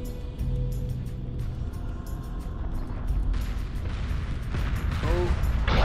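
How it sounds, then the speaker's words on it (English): Destroyers and missiles exploding in a Homeworld Remastered space battle: a dense, continuous low rumble of blasts and booms rolls under game sound effects, swelling louder in the second half, with no clear separate bursts. "One of destroyers goes down from Fear"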